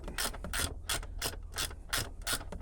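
A hand ratchet loosens bolts on a Cutlass Supreme G-body, giving about eight quick, crisp clicking bursts in an uneven rhythm, close by and fairly quiet, with no talking.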